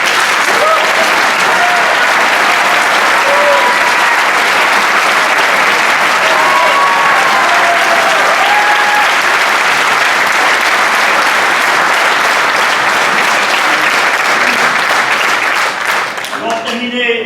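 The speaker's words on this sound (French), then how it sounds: "Un tonnerre d'applaudissements pour notre président d'honneur Jean-Baptiste Picard." A theatre audience claps loudly and steadily for its honorary president after a performance, a dense sustained round of applause with a few whistles, easing slightly near the end.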